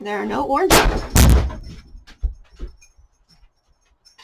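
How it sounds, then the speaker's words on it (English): A dog knocks over a sweeper indoors, two sharp loud crashes in quick succession followed by a few lighter clatters and knocks that fade away; a voice speaks briefly just before the crash. "That was a dog knocking over a sweeper."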